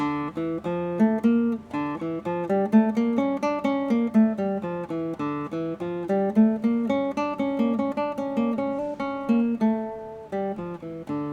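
Solo classical guitar plays Capriccio Arabe, a minor-key theme on an Arabic-sounding scale, with clear plucked notes in a flowing, rhythmic line that sounds close and alone.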